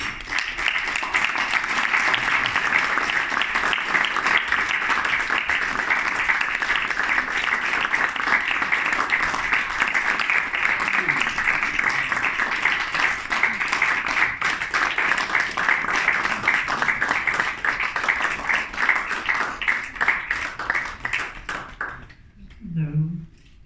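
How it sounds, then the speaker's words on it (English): An audience applauds Lindsay Wagner at an honoring ceremony at the phaeno in Wolfsburg, with dense, steady clapping for about twenty seconds that then fades and stops. "Please give a huge round of applause"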